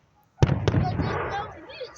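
Fireworks at an outdoor show in Ridgecrest, California, in dry conditions: two sharp, loud bursts follow each other closely, then a rumbling, crackling tail fades away at moderate distance.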